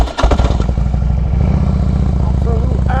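A Harley-Davidson Road King motorcycle engine rumbles loudly and steadily with a throbbing low beat on a late afternoon ride, the rider speaking over it.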